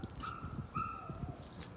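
A young Bouvier-type dog whimpers unhappily close by, thin high whines rising and falling over about two seconds against quiet outdoor background noise, with no talking.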